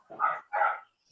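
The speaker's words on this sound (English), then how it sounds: "those are our dogs" Household dogs giving two quick barks, close and clear, with a short gap between them and quiet afterwards.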